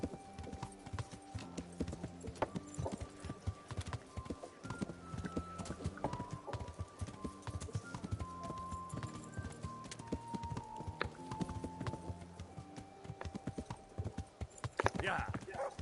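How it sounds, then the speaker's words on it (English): Hooves of an Arabian horse clopping steadily in Kingdom Come: Deliverance, a rhythmic patter over game music and ambience, with a voice talking over parts of it. "The Arabian horse."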